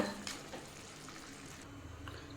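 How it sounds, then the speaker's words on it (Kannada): Mutton fries in ghee on a tava, restaurant style, with a steady, fairly faint sizzle and crackle that holds evenly throughout and no talking. "ಇದನ್ನು ಇವಾಗ ನಾವು ಫ್ರೈ ಮಾಡ್ಕೊಳ್ಳೋಣ"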